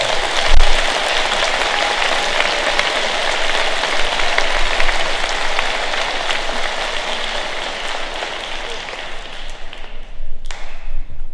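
An audience claps for rising freshmen at an 8th grade promotion ceremony, sustained dense applause filling the hall before it thins and stops near the end.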